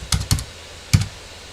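Keys are pressed on a computer keyboard while entering values in Mastercam 2021 to draw wireframe lines: three short, crisp taps, two close together and then one after a pause, fairly quiet and close.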